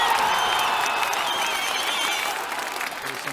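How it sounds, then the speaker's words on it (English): Applause from a small group at a tabletop role-playing game session, a burst of clapping that starts strong and tapers slightly over a few seconds. "There's some applause right there."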